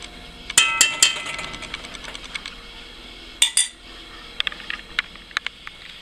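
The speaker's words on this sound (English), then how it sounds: "Just take that puree off the sides of the pan" Spatula strokes scraping pumpkin puree off the sides of a pan: a handful of sharp metallic scrapes and clinks, clustered early and again near the middle, with lighter taps between, close and fairly quiet, no talk.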